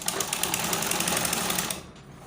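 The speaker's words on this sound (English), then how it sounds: "So sew it from the center back like this." A sewing machine runs in one fast, loud burst while sewing an Ankara shirt collar from the center back, its rapid needle chatter close up before stopping abruptly into quiet.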